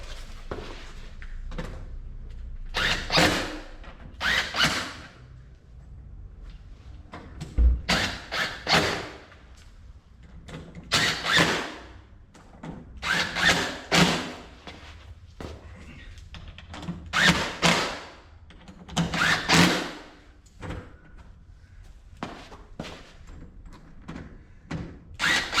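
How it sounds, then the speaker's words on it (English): Impact wrench tightening the lug nuts on a Ford F-150 truck, a series of loud, rattling bursts repeating in quick succession, each run separated by short pauses. "Got to come in with the impact, tighten them all up."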